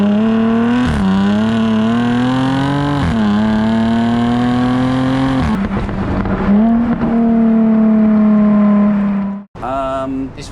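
A Jaguar F-type R with its V8 engine revs loudly and close, the exhaust note rising and falling in several sustained pulls with brief dips between, ending in a short gap and a final burst.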